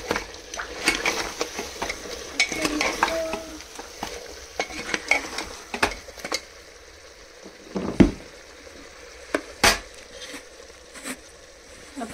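Cardamom, Kashmiri spice, cumin, coriander seed and cinnamon sizzle in hot oil for a desi-style mutton rogan josh, with steady crackling, scattered stirring clatter and a few sharp pan knocks toward the end.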